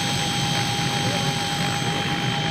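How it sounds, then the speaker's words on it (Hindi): A private helicopter at a political rally in Bahraich makes a loud, steady engine and rotor roar with a high, constant turbine whine, close and continuous throughout. "इनका खुद का निजी हेलीकॉप्टर है ये।"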